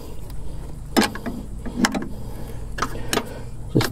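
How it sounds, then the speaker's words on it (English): A 12mm open end spanner works brake bolts on a Ford BA to BF or Territory, giving a few sharp metallic clicks and ratcheting knocks, spaced irregularly over near, quiet background noise. "Again, using a 12mm open end spanner."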